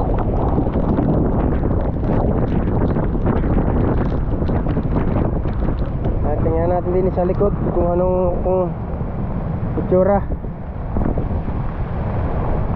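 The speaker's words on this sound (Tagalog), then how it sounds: "Lakas ng hangin." Strong wind buffets the microphone with a heavy, roaring rumble throughout, while someone speaks briefly partway through.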